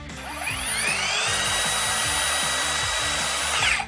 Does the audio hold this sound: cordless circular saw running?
yes